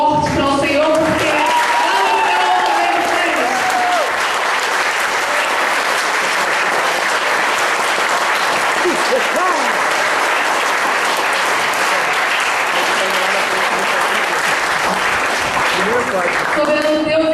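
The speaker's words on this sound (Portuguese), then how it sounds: "Vamos dar um aplauso bem forte para o Senhor" Church congregation giving loud, sustained applause that fills the room, with voices and cheers rising over it at the start and end.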